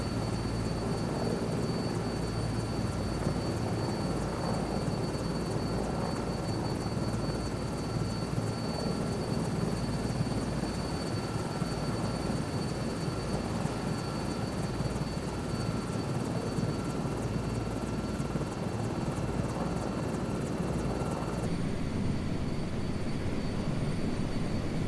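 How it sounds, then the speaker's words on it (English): A Cobra helicopter flies in a Microsoft Flight Simulator 2024 flight, its rotor and engine giving a steady, loud, unbroken drone that holds for the whole stretch without letup. "There's another helicopter. It's Cobra. It makes all kinds of sounds."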